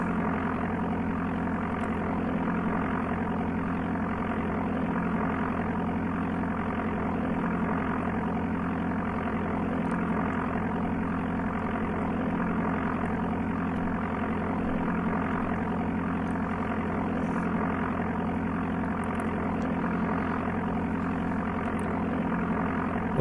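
A propeller aircraft engine drones steadily in the Amiga game Flight Simulator II, a constant, even buzzing hum that holds unchanged throughout with no talking.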